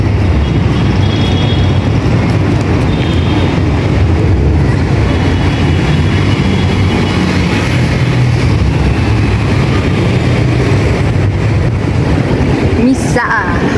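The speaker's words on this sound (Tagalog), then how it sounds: "Uy, LRT pala to." An LRT light rail train rumbles past in a steady low roar with road traffic noise around it, and the sound swells briefly near the end.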